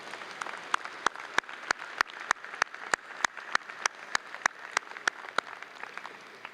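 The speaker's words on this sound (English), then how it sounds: "turn to your family, your friends, your parents that are here and applaud them" Steady applause from a crowd at a university freshman convocation, dense clapping with sharper individual claps popping out at a regular pace throughout.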